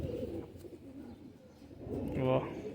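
A large fancy pigeon coos in a short, low throaty burst near the end, close by, while someone speaks over it.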